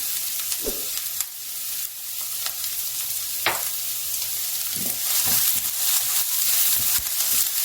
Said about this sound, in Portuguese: Na panela, vou colocar mais ou menos 2 colheres de sopa de azeite, uma cebola inteira e vou deixar refogar.